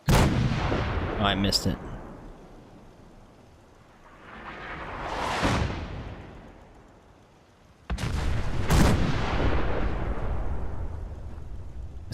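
Artillery fire in the Fallout 4 video game, heavy booming blasts with long rumbling tails, one near the start and another later, loud and close, with a brief spoken remark.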